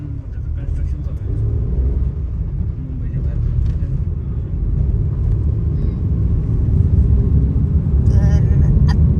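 Heavy late-night road traffic outside an international airport terminal, a continuous low rumble of engines passing close by, with voices speaking over it.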